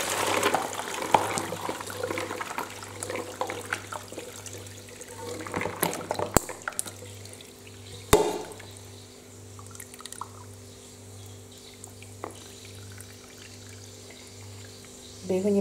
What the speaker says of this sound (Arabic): باش ناخذ الباسين هذي وباش نصفي الماء هذاك الكل، لازم نخليوها تبرد